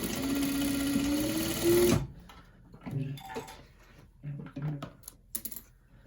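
An industrial sewing machine runs in one fast, steady burst for about two seconds while tacking a seam in the center of a kids' sweatsuit, then stops, followed by light clicks and fabric handling.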